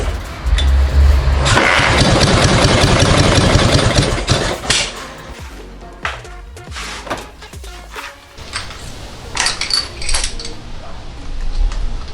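A Dnipro MT motorcycle engine, under repair with its fuel mixture screw being adjusted, runs loud and rough up close, then settles into an uneven, sputtering idle with clanking knocks.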